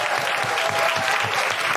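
A live audience at Soho Theatre, London, applauds at the close of a podcast recording, with a full, even wash of clapping from start to finish.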